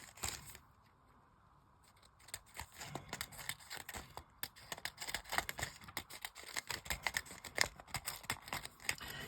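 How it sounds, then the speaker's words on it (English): Scissors trimming excess paper for junk journal ephemera, producing quiet, close, repeated snipping and crisp paper rustles after a brief near-silent start. "we're going to cut the excess"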